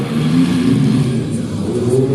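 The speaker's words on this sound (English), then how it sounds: "Our monster truck driver is looking at Boomer going out here. Just tearing it up." A monster truck tears around a Monster Jam arena, its engine roaring and revving in sustained loud bursts with a gritty mid-low drone that rises and dips, heard over a noisy crowded venue.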